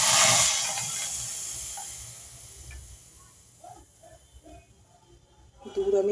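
Milk poured into semolina frying in a pan gives a loud burst of hiss that fades quickly into a softer sizzle, with light clinks and a voice talking near the end.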